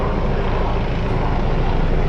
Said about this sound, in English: And now a helicopter overhead too.